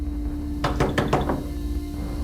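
A fist raps on a door five times in a quick, even run, each knock sharp and close, over a low steady hum with no voices.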